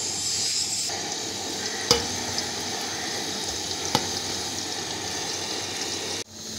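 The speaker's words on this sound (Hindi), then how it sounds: "इसमें हम घी डालेंगे। कटे हुए प्याज डालेंगे। प्याज का रंग सुनहरा होने तक हम इनको पकाएंगे।" Chopped onions fry in ghee in a cooking pot for mutton pulao, giving a steady, close sizzle with a couple of sharp clinks from stirring and a shift in tone near the end.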